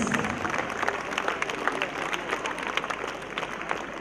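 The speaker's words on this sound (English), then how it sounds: "A big round of applause for the children" Clapping for young children at a school sports day, a moderate crowd applauding outdoors at a steady pace with scattered voices mixed in.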